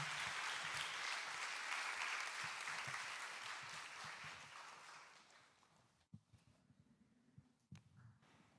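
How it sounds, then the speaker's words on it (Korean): A church youth revival audience applauds to welcome a preacher, dense clapping that holds steady and then thins out and fades to scattered claps, heard from within the hall. "목사님 나오실 때 하나님께서 감사하는 마음으로, 환영하는 마음으로 박수하겠습니다"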